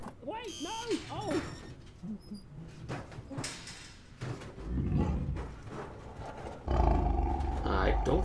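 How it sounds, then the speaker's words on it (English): A tiger roars inside the game Dr. Langeskov, its deep growl rising over clattering mechanisms, while someone talks excitedly throughout and a loud heavy rumble swells near the end. "There's a tiger in there."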